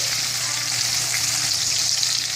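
Garlic shrimp hiss loudly and continuously on high heat in a pan for Spanish garlic shrimp, a dense, even sizzle close to the listener.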